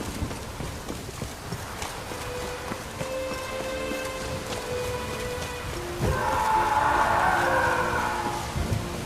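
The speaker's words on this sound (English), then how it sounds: "Raining buckets." Steady rainfall in the video game The Witcher 3 patters under rhythmic hoofbeats and a faint tonal background, growing louder and heavier toward the end.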